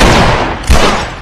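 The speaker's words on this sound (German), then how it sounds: "Ja, genau, knall deinen Freund ab." Gunfire rings out in The Last of Us, two loud, close booming shots in quick succession with a rolling decay after each.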